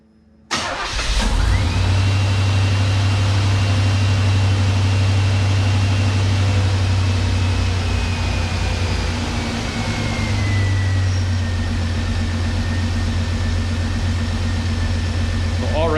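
A Camaro with a newly installed OEM alternator starts up abruptly and settles into a loud, steady idle close by, with a faint high whine drifting through the running engine for the rest of the stretch.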